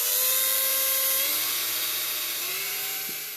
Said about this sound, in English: First up, drilling eye holes.